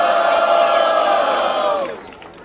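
A live crowd at a rap battle in Londrina cheers and yells loudly in one sustained roar of voices that swells and then fades out near the end.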